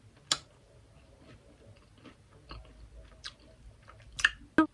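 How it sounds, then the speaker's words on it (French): A person chews food quietly up close, soft wet mouth sounds with a few sharper clicks and smacks scattered over a few seconds, no talking. "Est-ce que vous m'entendez mâcher?"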